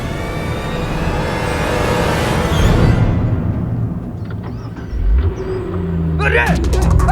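A car engine revs and pulls away at a busy roadside bus stop, the loud rumbling drive fading after a few seconds before another vehicle noise rises, with a voice calling out over it.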